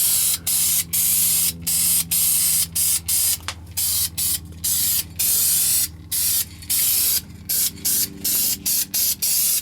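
Aerosol spray paint applied to a car's undercarriage in short repeated hissing bursts, loud and close, separated by brief pauses, with no talking.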